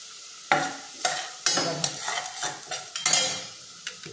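A spoon scrapes and stirs roasted masala sizzling in a pan for Malvani prawn chutney, a run of close rhythmic strokes over crackling frying.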